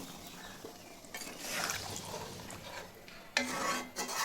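Mutton curry gravy simmering in a pot gives a moderate, steady bubbling hiss, with a brief spoon-and-pot clatter near the end and no voices.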